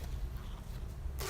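Zipper on a knitting bag being pulled, a soft continuous rasp close by that ends in a brighter, louder burst.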